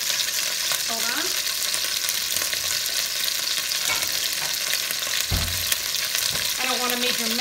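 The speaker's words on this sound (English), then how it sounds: "you're supposed to brown all sides and do it in batches." Short ribs browning in a pan, a steady loud sizzle and crackle filling the whole stretch, with a few brief clinks and scrapes of a utensil against the pan.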